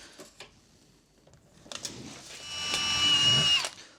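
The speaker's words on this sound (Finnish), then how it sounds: "Mä porasin täältä puolelta vain reijän" A power drill whirs up and runs for a couple of seconds, drilling a hole inside a motorhome, after some light knocks and handling noises, fairly close and moderately loud.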